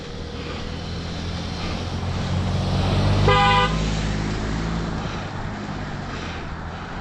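A single short vehicle horn honk rings out over constant engine and road rumble while climbing a hill.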